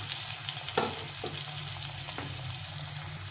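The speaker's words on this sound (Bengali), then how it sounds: "আলুটাকে ভাজতে একটু সময় লাগবে।" Potatoes frying in a pan with bay leaf and vegetables, a soft, steady sizzle with a few quiet stirring scrapes, close and alone.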